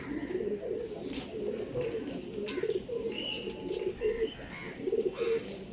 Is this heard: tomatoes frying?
no